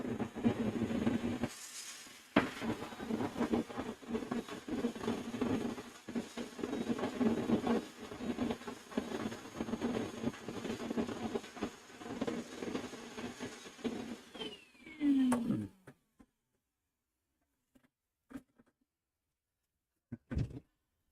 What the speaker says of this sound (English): Make a bit of noise here because I'm gonna vacuum up all this crap here.